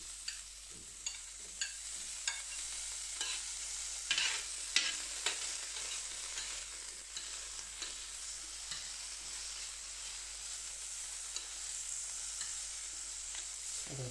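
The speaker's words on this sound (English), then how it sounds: "In goes the raw sausage." Raw sausage sizzles on an Eisenkopf & Söhne carbon steel griddle over a stovetop, a steady soft hiss broken by scattered sharp crackles and pops, with no talking.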